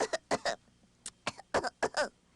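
A storyteller's voice imitates a rabbit's pretend cough, a quick run of short, close, dry coughing bursts in uneven rhythm with brief pauses between them.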